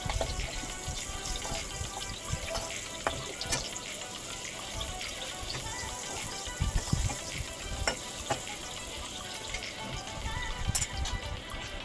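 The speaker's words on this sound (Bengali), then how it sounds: "বেগুনটাও আমি হালকা করে লাল করে একটু ভেজে নেব।" Eggplant frying in oil at an outdoor village cooking setting, giving a continuous soft crackling sizzle with occasional light pops and stirring knocks, moderately distant and fairly quiet throughout.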